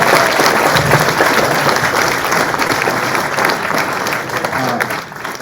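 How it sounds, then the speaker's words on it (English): Sustained, dense applause from an audience after a conference panel discussion on migration justice, steady and fairly loud throughout. "let's give a round of applause for our panelists and our moderator."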